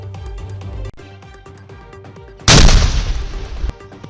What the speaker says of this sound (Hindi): सड़क पर सन्नाटे को चीरता हुआ एक जोरदार धमाका हुआ